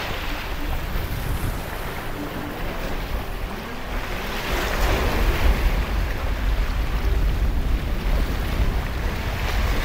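Rough ocean surf at a Maldives island, a continuous heavy roar of breaking waves with wind buffeting the microphone, growing slightly louder midway.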